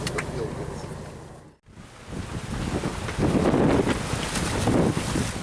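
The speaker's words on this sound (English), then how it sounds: "The strong wind had not died down" Strong wind buffets the microphone outdoors in Akureyri, Iceland, a steady broadband roar that drops out briefly, then returns louder and gustier, with a faint hint of nearby water or harbour sound underneath.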